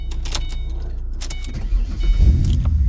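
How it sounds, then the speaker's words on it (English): Keys jingle briefly, then a car engine, jump started with a portable jump starter, cranks and catches, settling into a low steady idle close by. "We need to turn the car on."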